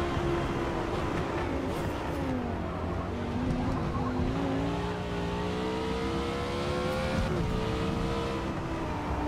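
An Audi race car in Forza Motorsport runs hard, with a steady engine drone whose pitch falls under braking and rises again as it accelerates, loud and close with no talk.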